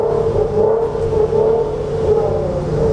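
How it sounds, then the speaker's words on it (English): A car engine rumbles and revs with a steady low drone, loud and close, in a downtown Washington street. "Rev it for me."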